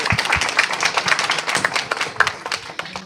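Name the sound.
audience applauding caregivers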